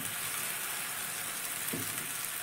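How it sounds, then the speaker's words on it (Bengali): Bengali tiffin snack flipped in an oiled pan, frying with a steady soft sizzle throughout and a brief scrape or clatter near the end, no voices. "এবার টিফিনটাকে আমি উল্টে দেব।"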